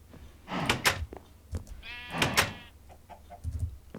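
Several short sheep bleats in the video game Sky Factory, two louder ones in the middle, with a faint thud near the end; no talking.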